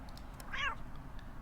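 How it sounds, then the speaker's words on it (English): A single short video game cat meow, clear but quiet, over a low steady background hum. "There's a cat."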